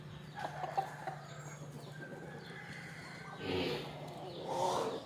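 Native country chickens clucking inside their coop, scattered soft clucks and calls at close range, with a couple of louder rising squawks toward the end over faint background noise.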